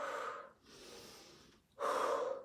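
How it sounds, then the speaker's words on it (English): Heavy, rhythmic breathing during a high-intensity interval workout with resistance loops: a loud breath, a brief pause, a softer breath, then another forceful exhale, close to the microphone with no talking. "Keep breathing."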